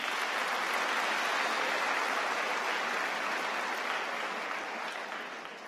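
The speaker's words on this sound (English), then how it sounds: "Please give them a round of applause." A large crowd at a university graduate commencement ceremony applauds honored platform guests, a broad continuous roar of clapping that holds steady and then tapers off toward the end.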